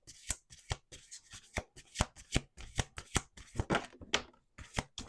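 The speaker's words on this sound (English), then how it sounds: "One more shuffle." Tarot cards being shuffled close up, a rapid series of crisp riffling snaps and slaps in quick irregular bursts.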